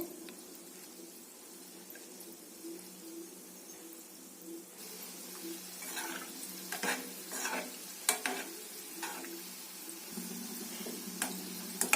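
Mini gulab jamun fry in oil over a low flame while being stirred continuously, producing a soft, steady sizzle with light scraping and ticking of the spoon against the pan.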